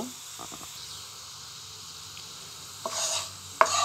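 Browned tempering is poured into a pot of masoor lentil dal cooked with jute leaves. After a quiet stretch, two sharp bursts of sizzling hiss come close by, one after the other.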